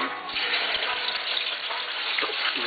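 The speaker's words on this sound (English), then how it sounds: "Now I'm about to just start frying the chicken" Constant crackling sizzle of chicken frying in hot oil, dense and close, with small pops scattered throughout.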